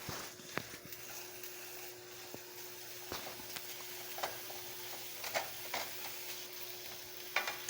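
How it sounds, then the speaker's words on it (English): Soft sizzling of ground beef browning in a pan, with scattered light clicks and scrapes of stirring, quiet and fairly close. "Alright, so we're going to brown the ground beef."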